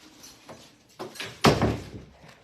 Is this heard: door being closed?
yes